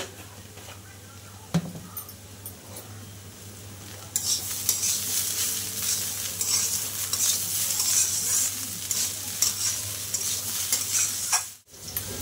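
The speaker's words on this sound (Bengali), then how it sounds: "থোরটা কিন্তু ভাজা প্রায় হয়ে এসছে, আর অল্প একটু ভাজা হবে।" Banana plant stem (thor) frying in a pan, a steady loud sizzle running throughout, joined after a few seconds by brighter hissing and occasional utensil stirring scrapes, with a brief clatter near the end.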